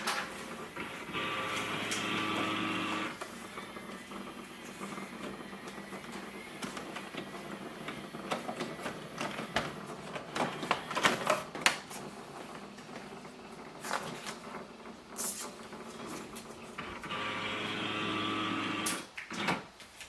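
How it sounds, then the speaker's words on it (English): An HP OfficeJet Pro 8135e printer scanning: a steady motor whine opens and closes the pass, with clicks, clunks and mechanical rattles in between, close and fairly loud, and no voices. "So this way we can do the copy, print and scan with this printer."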